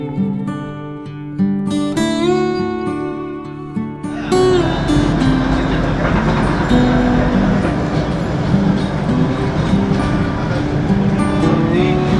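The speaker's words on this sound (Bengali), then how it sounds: "ফার্স্ট টাইম কিন্তু আমি জার্নি করছি এই টয় ট্রেনে" The Darjeeling narrow-gauge toy train rumbles steadily along the track through hills between Siliguri and Rongtong, a continuous clattering roar with music-like tones at the start, loud and close throughout.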